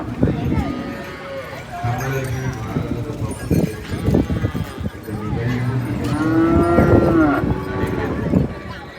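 Cattle moo repeatedly at a Tamil Pongal festival in Jaffna amid livestock sounds, clip-clopping hooves and a busy crowd, with long lowing calls rising over voices talking nearby.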